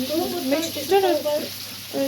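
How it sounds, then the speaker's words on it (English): Chicken pieces coated in flour, ginger, salt and pepper fry in a pan, giving a steady, close sizzle with soft crackles beneath whistly tonal noise. "she's coated the chicken in flour and ginger and salt and pepper, and she's frying that just now"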